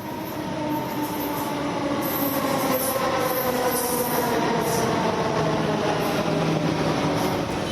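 A Mumbai local train runs along the rails with a steady, loud rumble, continuous wheel-on-track noise and squealing, heard up close with no voices.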